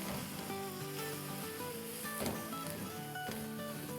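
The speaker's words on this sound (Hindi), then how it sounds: "अब इसमें हम डालेंगे तकरीबन 3 कप पानी।" Water poured into roasted flour in a hot pan, giving a soft sizzle and bubbling under faint background music, with a few brief clatters.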